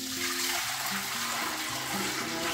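Lemon juice pours through a mesh strainer into a container, a steady liquid gurgle and splash lasting the whole clip, close and fairly loud.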